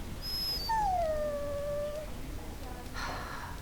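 A dog in the Dragon Age Origins video game gives a drawn-out, falling whimpering whine over a quiet game background, clear and moderately close, and a faint breathy sound follows.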